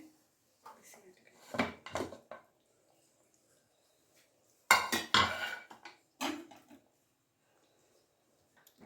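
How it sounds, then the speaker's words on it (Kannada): A pressure cooker holding masala green gram curry is opened once its steam has gone, with clattering metal lid and pot knocks in a few short bursts separated by quiet gaps, close and fairly faint, with a voice speaking intermittently. "ಈಗ ಕುಕ್ಕರ್ ಓಪನ್ ಮಾಡ್ತಾ ಇದ್ದೀನಿ"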